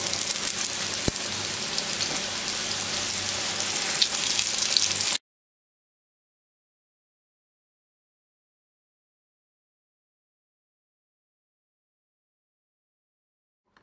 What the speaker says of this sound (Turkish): Tüm börekleri bu şekilde kızartacağım.